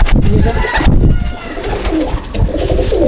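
Young pigeons coo in a loft during moulting season, a steady run of soft throaty coos close by, layered over constant flock noise and rustling with no talk.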